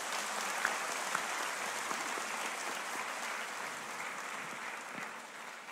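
A church congregation at Sunday Mass applauds its lectors and commentators. The clapping is steady and fairly soft, heard from a distance in a large reverberant space and lasting several seconds.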